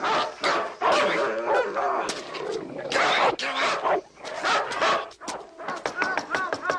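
A dog in a Christmas fantasy film scene barks and yelps several times, close and fairly loud, amid voices and background commotion.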